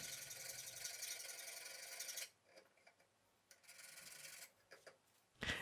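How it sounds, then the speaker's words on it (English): A homemade round scraper being sharpened with a diamond file for carving a wood and resin pendant, heard as a steady close rasp for about two seconds, then short, quieter scraping strokes with brief pauses. "But first, let's sharpen it with a diamond file."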